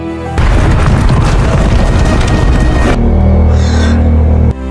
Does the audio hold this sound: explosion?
yes